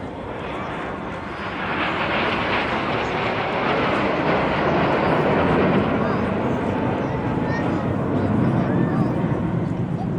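A display aircraft trailing a red, white and blue smoke stream roars past overhead at a seaside regatta air show, a loud broad engine rush that swells and holds.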